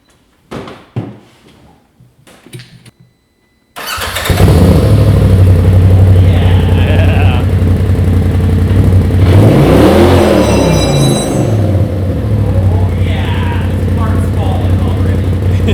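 Polaris RZR XP Turbo side-by-side with an MBRP exhaust fires up after a few clicks and door-like knocks, then settles into a loud, close engine drone with a couple of sharp revs and voices briefly over it.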